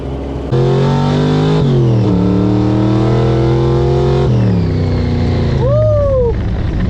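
1956 Chevy Gasser being driven hard, its loud engine revving up through several gear changes with rising and falling pitch, close and dominant, ending with a sharp squeal or whoop over the motor.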